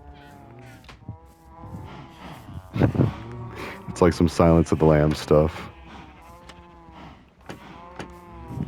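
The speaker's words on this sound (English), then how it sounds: "you might hear that massive amount of cows. Yeah, there's a lot of cows in my underground cow farm." A large herd of cows lowing together in an underground farm in Minecraft, several overlapping moos rising loud in the middle, with someone talking over them.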